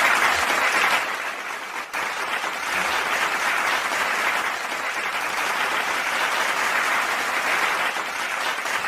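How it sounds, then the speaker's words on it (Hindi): An audience at a comedic Hindi poetry recital claps steadily for nearly nine seconds, a dense, loud, continuous wash of applause with a brief dip near the start. "जब लगातार तालियां बजती है ना"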